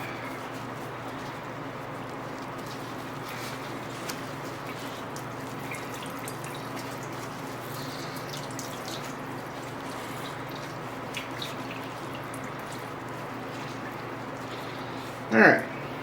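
Whey drips and trickles steadily from freshly lifted Jarlsberg cheese curds, a soft continuous watery patter ending in a brief louder splash, with no talk over it.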